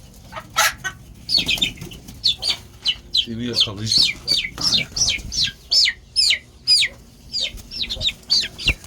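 Chickens and a rooster cluck and squawk in a rapid series of sharp, close calls, with some wing flapping and someone speaking briefly in between.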